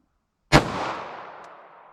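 A single sharp gunshot from an M&P pistol firing .380 ACP rounds at a target a few yards past a chronograph, a loud crack followed by a long fading echo.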